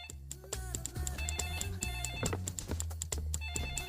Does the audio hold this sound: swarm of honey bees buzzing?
no